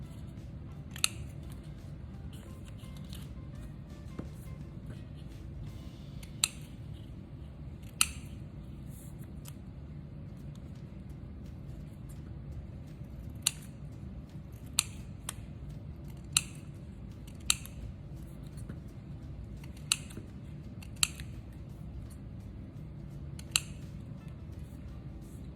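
Scissors snip colored paper for a sunflower mosaic, a series of crisp, close cuts spaced irregularly over a faint steady room hum, with no talking.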